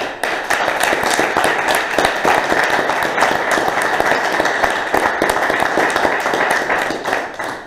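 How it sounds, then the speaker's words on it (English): An audience applauds the evaluators at a Toastmasters-style speech evaluation meeting, with steady, dense clapping that holds at full loudness for several seconds before tapering at the end. "Let's give them a round of applause"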